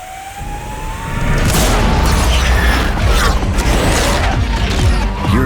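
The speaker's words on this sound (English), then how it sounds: "hear different high-performance sounds blasting out from both inside and outside" Hyundai IONIQ 5 N high-performance driving sounds blasting loudly, with synthetic engine-like tones sweeping upward in pitch, booming hits and a dense, roaring wash that swells after a quieter start.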